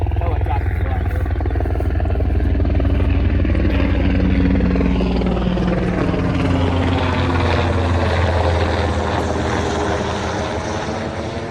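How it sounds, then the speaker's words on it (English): Helicopter passing overhead a field near Brecourt Manor in Normandy, a loud steady rotor thrum that swells then slowly fades as it moves away, with a voice talking over it. "we have a helicopter flying over"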